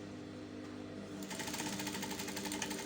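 A sewing machine stitches around the fabric brim of a reversible bucket hat, a low steady hum giving way to a fast, even, continuous run of close stitching.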